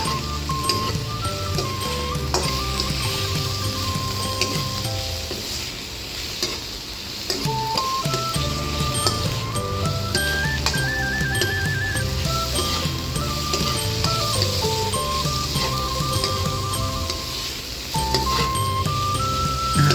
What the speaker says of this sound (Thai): ผัดให้เนื้อหมูแล้วก็บวบงูของเรา